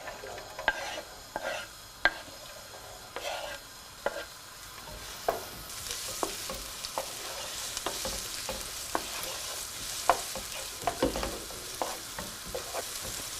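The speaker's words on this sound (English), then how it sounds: "I'll add some oil to the pan and I'll add the finely chopped onions." Finely chopped onions sizzle in hot oil in a pan for an Iranian qaliyeh maahi side dish, a soft, steady crackle broken by regular sharp taps and scrapes of stirring.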